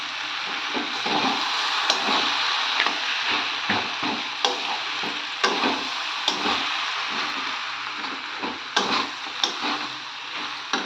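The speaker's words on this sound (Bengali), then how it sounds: "বাঁধাকপিটা অনেকক্ষণ কষতে কষতে আমার মাছের মাথাটাও দিয়ে দিয়েছি" Cabbage and a fish head fry with spices in a pan under a steady sizzle, broken by regular wooden spatula knocks and scrapes as the mixture is stirred.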